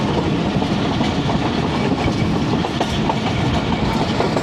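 A passenger train travelling from Lahore toward Hafizabad via Wazirabad, heard from on board as a loud, continuous rumble with steady clickety-clack of wheels over rail joints and no talk.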